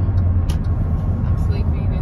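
A car engine idling, a low steady rumble close by, with faint clicks and knocks as people climb in.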